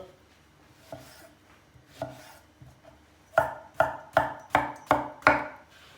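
A knife chopping zucchini on a cutting board, a few scattered cuts followed by a steady run of six sharp, evenly spaced chops, close and clear.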